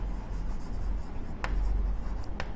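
A pen or marker writes on a board in continuous scratchy strokes, with a few sharper squeaks over a steady low room hum.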